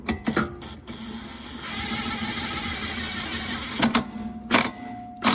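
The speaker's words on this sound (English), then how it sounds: "Alright, tightening up the bolt." A power tool or impact driver whirs steadily for several seconds while tightening a bolt on a Mazda 2 rear shock absorber, with short bursts and clanks before and after, close and loud.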